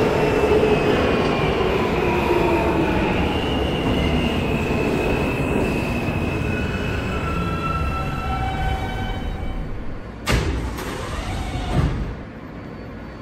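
A Roblox video game R160A G subway train rumbles steadily along with wheel squeal, then a couple of sharp metallic clunks and bursts near the end.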